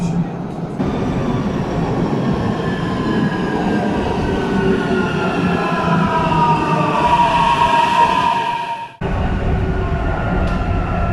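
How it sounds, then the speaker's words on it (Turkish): A metro train rumbles in loudly, its whining motor tones rising and screeching as it pulls into the station, then cuts to steady platform rumble. "metro gelmek üzere."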